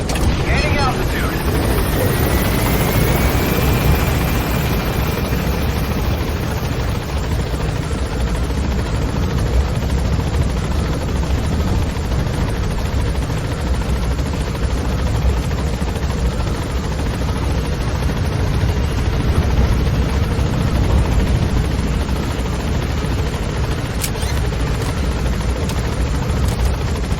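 An extraction helicopter in the video game Metal Gear Solid V gains altitude with a loud, continuous rotor roar and engine drone. The sound is close and steady, with a voice speaking over it.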